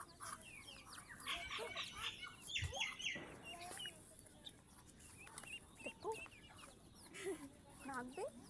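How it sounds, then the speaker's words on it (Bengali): Hens and their chicks cluck and peep nearby in a farmyard, a steady jumble of calls with one brief louder squawk and some background talk. "মুরগির বাচ্চাগুলো সবসময় তাদের সঙ্গে"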